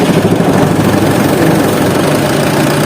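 Car engine idling with the aircon on and vibrating hard, a steady loud low rumble with a rough, shaky texture that continues unbroken and close.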